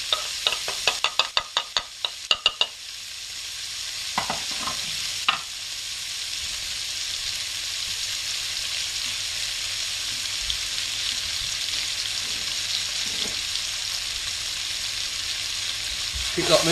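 Chopped onion and garlic fry in butter and oil, a few sharp stirring knocks in the pan at first, then a steady close hiss and sizzle that carries on alone.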